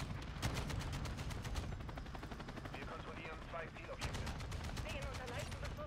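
Bursts of Kastov 762 (AK47) automatic gunfire in Modern Warfare 2 crack out rapidly and loudly, with a brief lull in the middle before another sustained volley, under game effects and background chatter.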